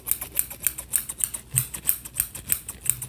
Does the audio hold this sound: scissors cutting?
yes